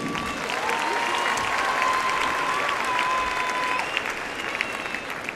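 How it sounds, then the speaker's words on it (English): Sustained audience applause at a men's floor exercise gymnastics competition in Paris, loud and even throughout, with a faint tone running beneath the clapping. "des remerciements et des applaudissements encore s'il vous plaît pour Nicolas Diaz."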